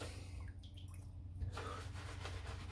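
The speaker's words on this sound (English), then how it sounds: "I'm just adding more water." Water runs and splashes while shaving lather is worked up from soap, a steady close trickle with a brief louder splash partway through, no talking.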